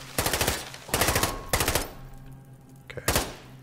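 Machine gun fire in Modern Warfare on realism mode: four short, loud, close rapid bursts separated by brief pauses, with faint game ambience between them.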